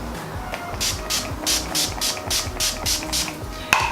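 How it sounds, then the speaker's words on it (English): An Urban Decay setting spray bottle hisses onto a face in a quick series of about ten short, even bursts, close to the microphone, ending with a sharp click. "we spray the shizzle out of our face with the Urban Decay setting spray"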